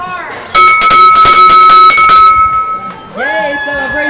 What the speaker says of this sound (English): my friend here is about to ring the bell